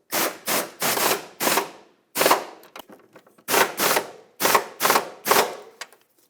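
Ratchet clicks in quick bursts while the upper control arm bolts are snugged on a 2008-2012 Honda Accord, several close, loud runs of rapid clicking separated by short pauses.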